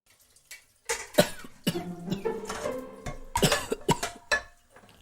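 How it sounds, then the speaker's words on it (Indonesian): A man coughs several times in quick bursts, harsh and close, with short pauses between the fits and a quieter cough at the end. "Ayah masih batuk"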